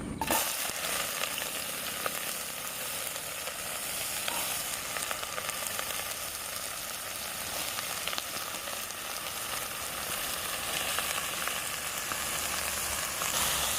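Three finely chopped onions hitting hot oil in a pan for a Kerala chicken curry, a loud, dense, continuous sizzle close up with faint stirring, no voices.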